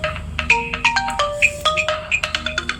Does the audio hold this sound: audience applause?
no